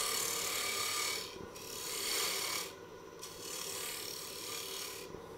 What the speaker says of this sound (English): And that way we can sand it